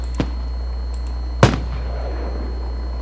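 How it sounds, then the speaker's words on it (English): Firework explosion sparks from the FWsim fireworks simulator go off in two sharp bangs, a small pop followed by a louder crack with a short crackling tail, under a constant low hum. "This is an explosion spark."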